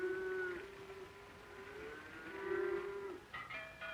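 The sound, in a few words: cattle mooing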